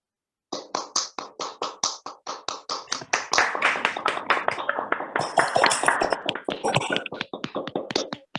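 Online participants unmute and clap for a speaker after a shatavari health session, a burst of many sharp hand claps that starts after a brief silence and builds into fast, overlapping applause, fairly close.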